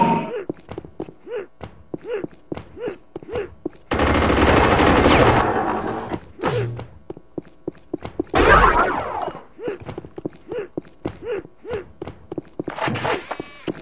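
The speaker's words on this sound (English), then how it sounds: "Another firefight with the miniguns." Rapid minigun bursts crackle through an Unreal Tournament firefight, with steady rhythmic shot trains, two long loud sustained blasts of fire, and game effects between them, all close and prominent.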